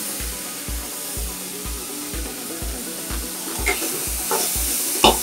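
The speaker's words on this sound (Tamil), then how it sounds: "போட்டு வதக்கிடுங்க நல்லா." Carrots sauté in a hot pan for rava kichadi, a soft continuous sizzle broken by evenly spaced low thumps of stirring about twice a second, with a few sharper scrapes of the spoon toward the end.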